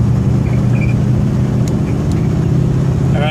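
A Ford F100 truck fitted with an Edelbrock 1405 carburetor, driving on a road: a loud, steady low engine rumble and road drone from inside the cab, continuous throughout with no talking.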